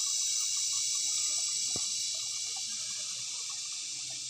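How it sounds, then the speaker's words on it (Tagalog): Water flowing steadily from a reservoir in Kapihan, Davao City, as it is fetched: a constant rushing hiss with a single sharp knock partway through. "Flowing lang to guys, flowing water of Kapihan"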